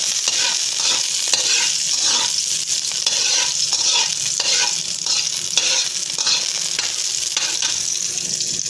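Garden vegetables sauté with a little garlic in a pan, a loud, continuous hissing sizzle with faint stirring clicks running through it.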